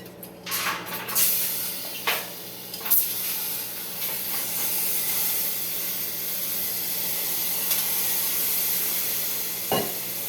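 Wet, drained wood chips hiss and steam inside an indoor smoker, a steady soft sizzle holding throughout, punctuated near the start and end by a few sharp knocks and clatters.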